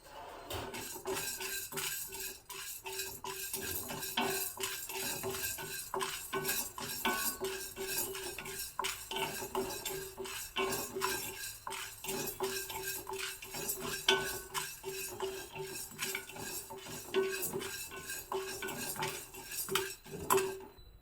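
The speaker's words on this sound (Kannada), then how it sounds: "ಕಲರ್ ಚೇಂಜ್ ಆಗೋ ರೀತಿ ನಾವು ಹೊಂಬಣ್ಣಕ್ಕೆ ಬರಬೇಕು ಅಲ್ಲಿವರೆಗೆ ಚೆನ್ನಾಗಿ ಹುರ್ಕೋಬೇಕು" A spoon stirs lentils as they dry-roast in a pan for Mysore-style vangibath spice powder. Busy, continuous scraping and metallic clinking go on for the whole stretch at a moderate level, close by, with no speech.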